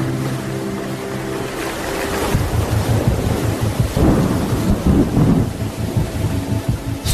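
A thunderstorm squall at sea batters a sailboat in the Lau Group of Fiji, loud rumbling thunder and heavy rain over rushing wind and waves, intensifying midway and staying dense throughout.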